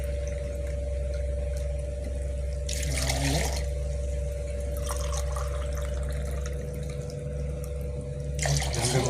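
Water poured for cooking rice, a steady near stream with splashing bursts over a constant low background hum, louder splashes coming and going.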